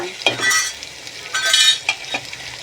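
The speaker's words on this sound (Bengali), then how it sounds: "ভেজে রেখে এখন এর সাথে দিয়ে দিচ্ছি, ভালোভাবে নাড়িয়ে নিচ্ছি" Fried meat being stirred in a biryani pot, with several scraping, clinking strokes of a utensil over a soft sizzle, close and loud with short pauses between.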